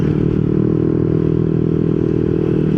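Yamaha Nmax scooter idling through a 4S1M Street Core V3 exhaust after a reviver fix, a steady close low burble with a fine rapid pulse, even and unbroken for the whole few seconds.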